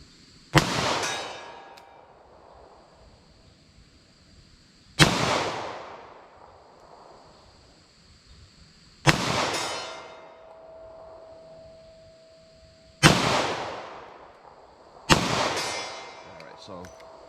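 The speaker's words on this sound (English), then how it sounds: "So let me fire one single action, hold a little bit to the right" Five sharp pistol shots ring out one at a time on a range, 9mm and .38 Special handguns firing Federal Hydrashok rounds, each a loud crack with a ringing decay and gaps of a few seconds between shots.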